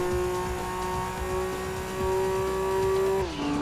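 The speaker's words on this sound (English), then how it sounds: "Revving it all the way up." Race car engine revving hard in Gran Turismo 2, a steady high engine drone holding pitch then dropping abruptly near the end as it shifts, loud and continuous with no talking.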